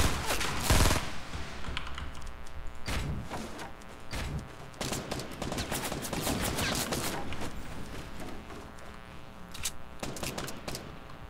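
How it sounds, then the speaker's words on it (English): Scattered gunfire from other players in Fortnite Battle Royale crackles at a moderate distance in irregular bursts and single pops, with a busy mix of game sounds throughout and no clear talk. "I hear people shooting over here"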